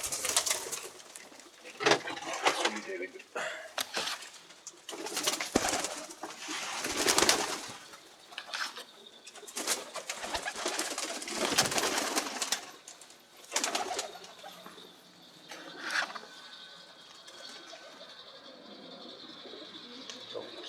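Pigeons coo repeatedly nearby, with bursts of wing flapping and fluttering among the calls, as a hawk approaches.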